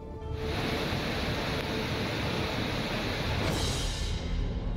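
Rushing flood water from heavy monsoon rain, a loud, continuous broadband roar of surging current that holds steady for the whole stretch with no talk over it.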